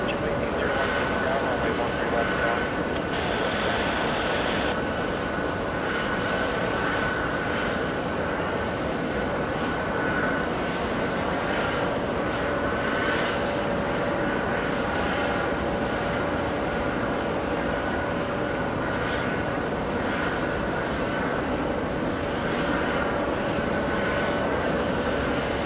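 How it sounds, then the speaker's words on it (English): An Airbus A330 jet touches down at JFK, a long, steady, moderately distant engine roar with a faint whine running through it, while someone talks over the noise. "What do we have touching down? That is an A330."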